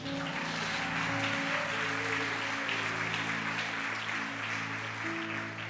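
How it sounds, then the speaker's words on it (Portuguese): A church congregation applauds steadily throughout, a dense continuous clapping wash over sustained organ or keyboard tones and music. "Vamos aplaudir Jesus"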